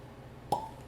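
A single crisp cork pop from a newly opened Michter's bourbon bottle, one short close plop with a brief ringing tail, standing alone against quiet room tone.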